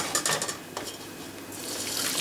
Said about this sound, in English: the next part is to strain all the juice out of here into another saucepan